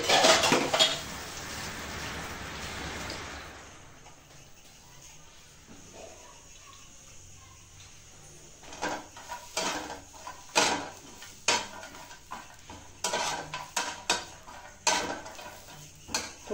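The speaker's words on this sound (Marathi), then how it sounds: "आता एक खोबरं थोडंसं लाल होईपर्यंत आपण त्याला भाजून घेऊ।" Coconut roasts in a pan for dhaba-style mutton curry, with a brief sizzle followed by a run of close metallic scrapes and clinks of a spoon stirring against the pan, irregular and fairly quiet.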